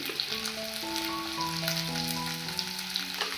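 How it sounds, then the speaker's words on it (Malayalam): Half a small salted onion sautés in a pan, a steady close sizzle with a soft, sustained melodic tone running underneath throughout. "നമുക്ക് ഈ സവാള ഒന്ന് നന്നായിട്ട് വഴറ്റിയെടുക്കാം"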